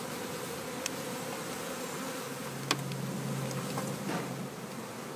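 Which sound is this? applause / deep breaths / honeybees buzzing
honeybees buzzing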